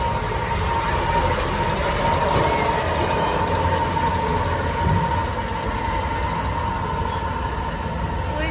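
Toy train in a children's park rolling along continuously, a loud steady rumble and clatter of wheels with a faint whine, close by throughout with no talk.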